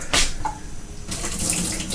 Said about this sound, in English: we'll have to pour just a little bit out